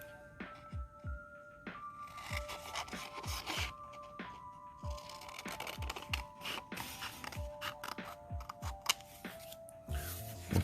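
Scissors snip paper close by while a paper fin for an air skimmer is cut out, a quiet series of irregular crisp cuts and rustles.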